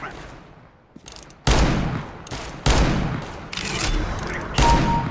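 Heavy revolver shots ring out in a CS:GO deathmatch with the R8 Revolver, several loud, sharp reports spaced a second or so apart amid constant game noise, with a voice talking briefly.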